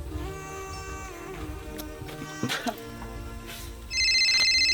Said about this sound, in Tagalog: Tingog sa akong cellphone.